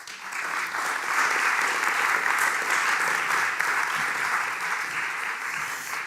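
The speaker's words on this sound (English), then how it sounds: "Give them a warm applause." A live audience applauds as a panel walks onstage to take their seats at a talk on Dutch graphic design culture, the clapping dense, steady and loud for about six seconds.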